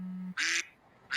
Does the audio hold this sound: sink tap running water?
no